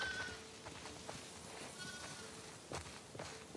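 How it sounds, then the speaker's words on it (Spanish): Sheep on a farm in The Last of Us Part II bleat faintly several times against a steady ambient background of the game world. "¡Escuchen, ovejas! La cena está en el granero, así que ¡vamos!"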